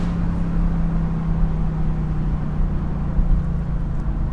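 A Mercedes-AMG GT Roadster engine under way, giving a steady, close, low droning hum with a faint sustained tone that holds even throughout, with no talking.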